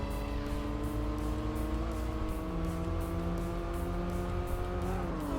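A stock car's engine races in Tokyo Xtreme Racer 3, a steady, loud droning whine that holds its pitch and then shifts slightly near the end, with a rhythmic pulsing on top.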